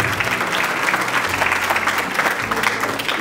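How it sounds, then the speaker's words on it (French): An audience claps steadily through an award ceremony at a school prize-giving, the applause dense and sustained at a close, even level with no talk over it. "Merci de l'applaudir."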